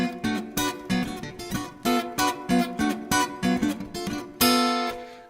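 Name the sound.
thumb-picked guitar chord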